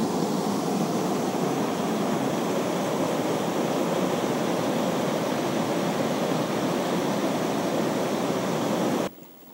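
The Szepit waterfall on the Hylaty stream in the Bieszczady mountains roars as a steady broadband rush of falling water, close and continuous, cutting off abruptly near the end.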